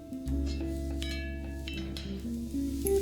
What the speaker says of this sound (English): I saute the minced garlic with the other veggies for about a minute or until it's really fragrant